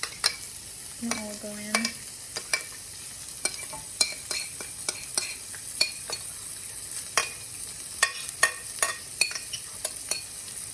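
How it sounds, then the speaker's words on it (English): Sauce stirred into sizzling dragon chicken in a pan, a steady fry hiss broken by repeated sharp scraping and clinking strokes of a utensil, with a brief low pouring gurgle early on and a few spoken words. "we're going to go ahead and add our sauce to it now"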